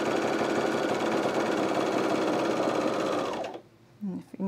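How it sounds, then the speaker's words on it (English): A sewing machine stitches elastic onto stretchy bamboo tencel fabric, running in a fast steady close whir for several seconds, then stopping abruptly, followed by quiet handling noise. "I'm just gonna sew it on with 3/8 inch seam."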